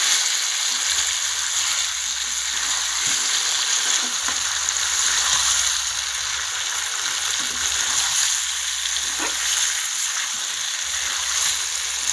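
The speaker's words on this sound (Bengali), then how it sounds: "চিকেনের যা জল বেরোচ্ছে ওটাই আমি কষে নিচ্ছি ভালো করে।" Village-style chicken kosha sizzles and fries in its own released juices, a steady, loud, close crackle with occasional stirring and no voices.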